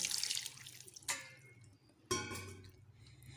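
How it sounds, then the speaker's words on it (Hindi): Water is poured into a cooking pot, about two glasses' worth, in two splashing pours, each starting with a sharp gush and trailing off into running liquid. No one talks. "तो हम इसके अंदर तकरीबन 2 गिलास पानी ऐड कर रही हूँ"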